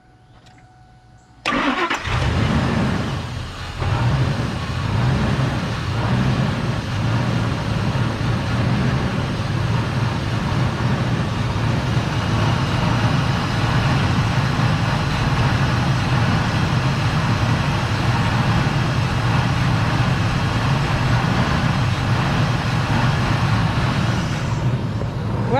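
A vehicle engine with an unresolved running problem cranks and catches after a short quiet start, then keeps running loudly and steadily up close for the rest of the stretch.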